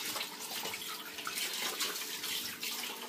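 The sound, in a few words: washing whole chicken with water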